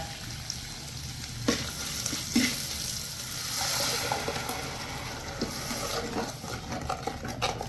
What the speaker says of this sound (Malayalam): തേങ്ങയും മഞ്ഞൾപ്പൊടിയും മുളക് പൊടിയെല്ലാം ചേർത്ത് നമ്മളെ അരപ്പില്ലേ അത് ഒഴിച്ചു കൊടുക്കാം